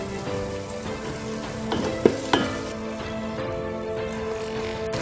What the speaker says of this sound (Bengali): এখন বটবটিগুলো ভালো করে ভেজে নেব